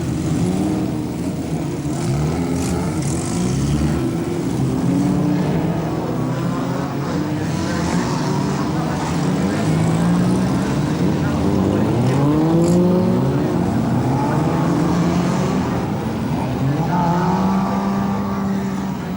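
A race car engine warms up in the collecting area before a motor race, a steady loud drone with rising and falling revs, gliding pitch sweeps and other engines running nearby throughout.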